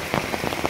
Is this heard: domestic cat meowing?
no